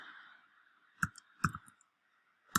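Three quiet computer mouse clicks, sharp and close, spaced irregularly over a low background hum, with no speech.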